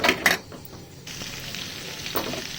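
Drumsticks and onions sizzling in a pan for a drumstick and tomato curry, a soft steady fry with a few sharp clinks of a utensil against the pan near the start.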